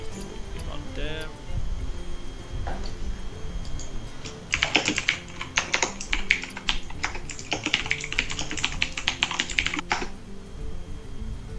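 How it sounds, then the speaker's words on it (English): Fast typing on a computer keyboard during a competitive card game match, a dense burst of rapid key clicks over several seconds with quieter game music and ambient sound around it. "that typing speed though feels good"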